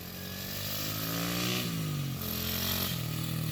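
Small pit bike dirt bike engine ridden on a slick outdoor track, buzzing loud and steady with rising pitch as it revs, then dropping at gear shifts, with a few distinct shift steps over several seconds.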